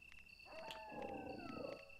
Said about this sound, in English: Oh, there's dogs. I definitely hear dogs.